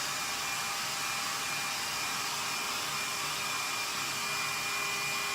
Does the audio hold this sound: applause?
no